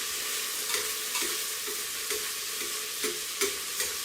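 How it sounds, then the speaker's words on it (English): Zucchini browns in a hot pan with a dense, even sizzle, broken by a handful of soft scraping stirs at a steady interval, close by with no talk. "Those zucchinis are browning up pretty nice for us."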